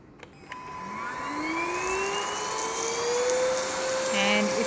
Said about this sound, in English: So now we'll try this one on turbo speed and we'll see how it goes.